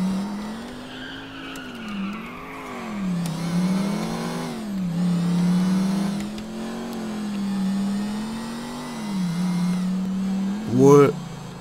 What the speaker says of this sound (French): J'entends à mort ta voiture